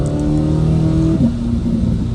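Car engine revving, still being broken in and kept under 6,500 rpm, heard close through the exhaust as a strong steady drone whose pitch climbs and then drops sharply as the revs fall away.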